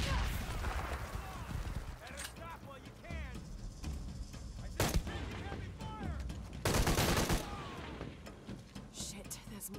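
Video game gunfire from Rise of the Tomb Raider, with rapid shots and bursts of automatic fire punctuated by loud blasts while someone talks excitedly over the action.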